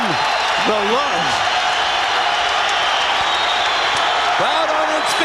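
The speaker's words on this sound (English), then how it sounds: "Crowd on its feet in proper tribute" Crowd at a boxing match stands cheering and applauding in a dense, sustained roar while a commentator talks over it.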